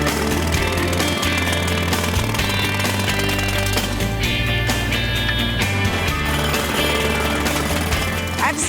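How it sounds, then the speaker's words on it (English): A jackhammer pounds steadily at close range while breaking up asphalt around a large pothole, a continuous loud rapid hammering with a deep engine-like drone underneath and no voices. "the jackhammer makes you look really tough"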